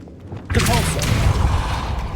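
A Depulso spell is cast in Hogwarts Legacy, a sudden magical whoosh and burst that swells and rings out for under two seconds, close and fairly loud, following a brief spoken moment.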